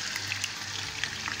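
About 1 kg of chicken sizzles in hot cooking oil in a karahi, a steady close frying hiss with scattered pops and no voices.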